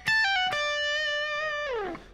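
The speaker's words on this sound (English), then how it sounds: "I'm going to do sort of a little legato roll" Electric guitar playing a quick legato roll arpeggio from a solo, a few rapid picked-and-slurred notes leading into a sustained bright note that bends downward at the end, heard alone.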